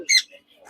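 A fully tame sun conure parrot at a pet market lets out one sharp, shrill squawk up close, followed by faint chirps and quiet.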